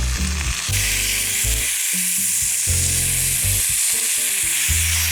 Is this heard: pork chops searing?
yes